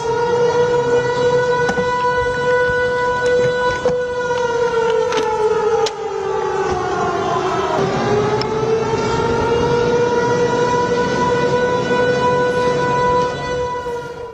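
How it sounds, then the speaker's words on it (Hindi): Civil defense air raid sirens wail steadily during a blackout in Jammu, a loud sustained tone that dips in pitch and rises again midway, with no voices over it. "ब्लैकआउट हो गया है, सायरन बज रहे हैं"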